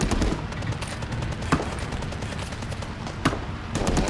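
Heavy automatic gunfire rattles nonstop in the war game Call to Arms, dense and loud, with two sharper blasts punching through the barrage.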